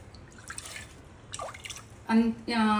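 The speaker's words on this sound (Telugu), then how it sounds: "1:4 చొప్పున వాటర్ పోస్తున్నా." Water poured into a pan of roasted moong dal for cooking, heard as two short splashing, gurgling pours close by near the end, after a quieter stretch of faint kitchen noise.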